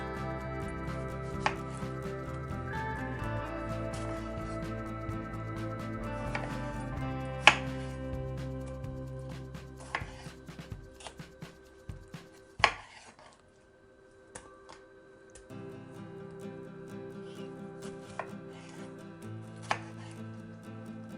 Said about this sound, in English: We're gonna starting by cutting our tomatoes so they are not too big pieces.